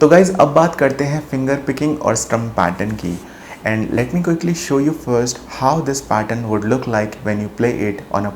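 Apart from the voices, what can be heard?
No everyday noise stands out behind the speech.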